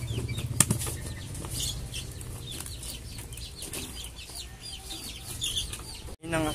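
Newly hatched bantam chicks in a backyard farm brood, wings flapping in a steady flurry with scattered clucks and peeps throughout, close and moderately loud, with a brief rustling thump near the end.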